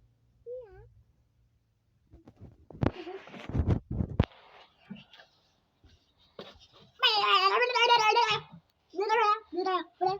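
A child imitates a cat, giving a long wavering meow and then several shorter meows, after some rustling and soft scratching sounds nearby.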